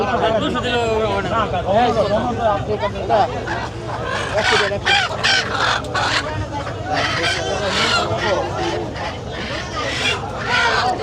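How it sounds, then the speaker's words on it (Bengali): Roosters and chickens cluck and crow at a riverside market, the bird calls close and busy under continuous crowd chatter and a nearby voice talking throughout. "দেখেন মোরগ"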